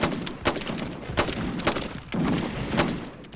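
A rifle volley fired during target practice at a First World War training camp on the Isle of Wight, several loud, sharp shots cracking out in a ragged sequence with short gaps between them.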